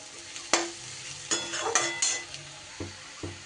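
Onions frying in a pan as Kashmiri chili powder and turmeric go in, with a steady sizzle broken by several sharp spatula scrapes and clinks against the pan.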